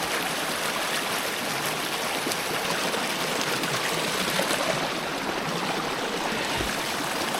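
A river stream runs through a forest after a typhoon, a loud, steady rushing wash of water close by, continuous for the whole stretch with no voices.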